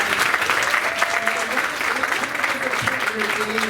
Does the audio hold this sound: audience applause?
yes